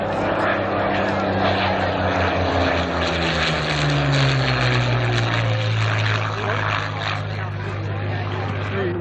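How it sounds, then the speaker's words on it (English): A Supermarine Spitfire propeller plane passes at a 1991 Leicester air display, its loud, steady engine drone swelling and shifting in pitch as it flies by, with a commentator talking over the engine throughout. "Classic Spitfire wing there, designed of course by R.J. Mitchell"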